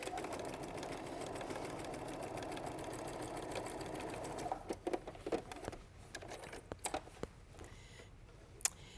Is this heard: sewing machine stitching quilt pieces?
yes